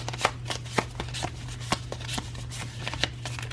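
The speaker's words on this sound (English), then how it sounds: "We take the cards out, we shuffle them around." Playing cards are shuffled close up, a run of quick papery riffles and soft snaps with no talking.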